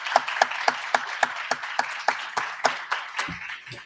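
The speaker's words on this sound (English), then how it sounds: "One more round of applause, please." At a book talk, a small audience gives a round of applause with distinct, regularly spaced claps standing out over a lighter clapping bed, fading near the end.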